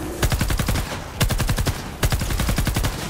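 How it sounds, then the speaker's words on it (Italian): Rapid bursts of laser gunfire from Fortnite: Save The World during a Plankerton storm shield defense, three dense volleys of sharp repeated shots in quick rhythm, loud and close. "e gli spara laser."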